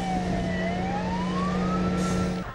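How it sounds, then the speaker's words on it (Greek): A fire engine arrives at a wildfire near homes at Kavos Isthmion, Greece, its loud wailing siren sweeping up and down over a low engine rumble before cutting off near the end. "Ένα όχημα της πυροσβεστικής φτάνει στο σημείο"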